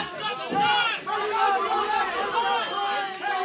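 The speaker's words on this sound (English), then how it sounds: "Crowd's getting kind of restless, man" Spectators at a professional grappling league match fill the venue with a loud, restless murmur of chatter and shouts, rising and falling without pause.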